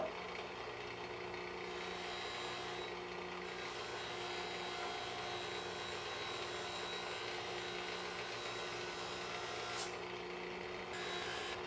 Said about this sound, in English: we're going to go polish that on the Scotch-Brite wheel